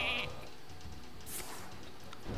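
Sheep bleats from the card game Hearthstone, with one bleat near the start over a busy game soundscape of effects and background music, loud and close.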